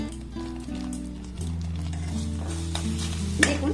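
A sweet mixture gets stirred in a pan over a low flame, giving a soft, continuous sizzle with a faint scraping, and a brief louder clatter near the end over a steady low hum.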